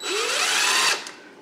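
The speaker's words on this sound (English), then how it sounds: "I like to just use an impact driver to run these screws in and get them both started." An impact driver runs screws in while wiring a garage for a 240 V disconnect, giving a steady loud motor whine for about a second before stopping abruptly, with a brief tail of quieter rattle. No talk.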